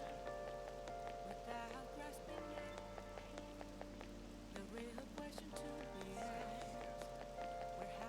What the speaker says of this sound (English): I heard the rain front is gonna stagnate here for a while.